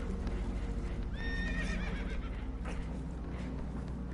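A horse whinnies loudly in Red Dead Redemption 2 over steady hoof clip-clops and a low rumbling background, close by.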